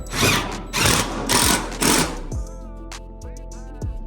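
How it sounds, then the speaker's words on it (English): A power drill driving screws whirs in four short bursts, each a couple of seconds long, loud and close, followed by quieter mechanical clicks and a faint hum. "let's grab the drill."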